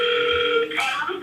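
A phone ringing through the GoHighLevel dialer app, a short electronic tonal ring with steady pitched bands, loud and close, shifting in tone near the end.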